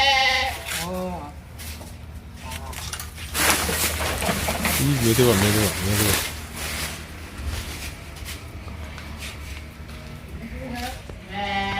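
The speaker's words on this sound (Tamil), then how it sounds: "இதுக்குள்ளெல்லாம் செம்மறி ஆட்டுக்குட்டிகளா" Sheep lambs on a farm bleat in several wavering calls, one early, a louder cluster in the middle and another near the end, while people chat and laugh nearby throughout.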